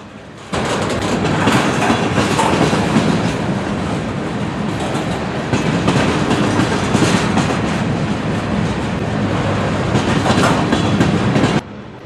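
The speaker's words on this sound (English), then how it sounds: "I was more than likely the only happy person here to see this train" A freight train hauling BN grain cars rolls past in the rain with a loud, steady, close roar and rumble of wheels and cars that holds for about eleven seconds, then cuts off abruptly.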